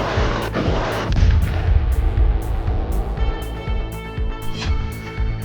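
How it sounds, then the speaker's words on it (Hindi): Artillery bombardment in the Russia-Ukraine war, heavy booming blasts that roll and overlap in a loud, dense barrage, with a high rhythmic ticking pulse in the background. "पुतिन की फौज यूक्रेन पर ताबड़तोड़ बमबारी कर रही है"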